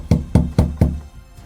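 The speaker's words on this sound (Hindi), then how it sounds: "उसने अपने घर के दरवाजे को ज़ोर ज़ोर से खटखटाया।" Four loud, evenly spaced knocks on a house door, heavy and close, followed by a brief quiet moment with no talking.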